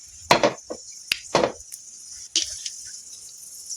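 Sharp crackling pops of mustard seeds spluttering in hot oil burst out in a few separate clusters, each popping briefly then fading, close by over a faint steady hiss.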